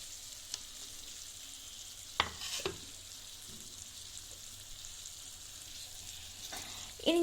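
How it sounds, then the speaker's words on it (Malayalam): Pasta and crushed noodles fry in a pan with a soft continuous sizzle, broken by a couple of sharp scraping stirs and clinks from a utensil. "ഇനി ഞാൻ ഇതൊന്ന് ഇളക്കി കൊടുക്കുവാണേ."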